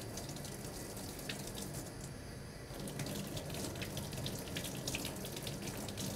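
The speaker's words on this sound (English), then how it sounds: "Rinse hands and arms by passing them through the water in one direction only, from fingertips to elbow." Running water from a tap pours steadily as hands and arms are rinsed during a surgical scrub, a continuous close splashing wash with no voices.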